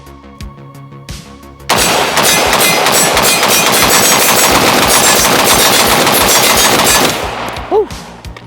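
Draco AK pistol firing rapidly at a steel plate outdoors, a loud, dense burst of shots lasting several seconds after a few isolated ones, then stopping abruptly with a faint ring.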